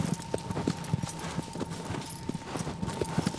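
Horse hooves clip-clopping in the game Shadow of the Colossus, a steady trotting rhythm of distinct hoof strikes over a low ambient hum, moderately close.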